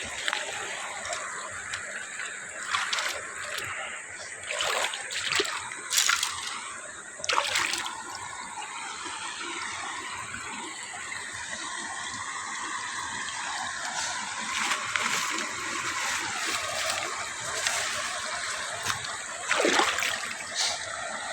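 Water flows and splashes down, a steady wash of sound broken by sharp, repeated splatters and spurts through the clip, close and moderately loud.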